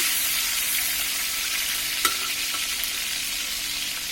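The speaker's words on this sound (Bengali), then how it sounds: "আগে ডিমগুলোকে ভেজে নেওয়া লাগবে।" Hot oil in a pan crackles and sizzles steadily around frying eggs for an egg and eggplant dish, with a brief clink of a utensil midway and no voices.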